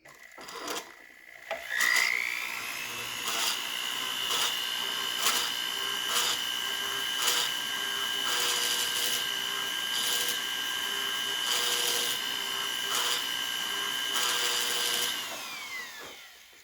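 A checkering machine cuts lines into a part with a loud, steady high-pitched whine and a rhythmic pulsing chatter, ramping up at the start and spinning down at the end, with no talk.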